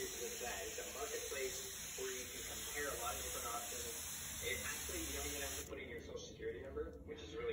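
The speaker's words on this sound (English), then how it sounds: "I'll just spray it with the spray and starch" Faint hissing spray from an aerosol can of spray starch onto fabric under a person talking, with a steady high-pitched tone in the background.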